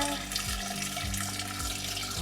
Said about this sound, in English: we're just gonna fill the jugs with water